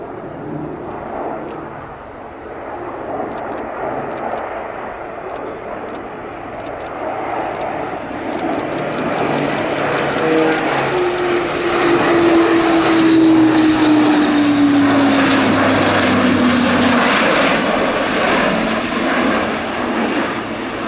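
German Air Force Airbus A400M propeller transport aircraft at a flying display at the Royal International Air Tattoo, a loud sustained turboprop roar with a whining tone sweeping down in pitch as it manoeuvres, while a voice talks over it.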